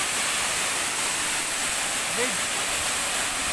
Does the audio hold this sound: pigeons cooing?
no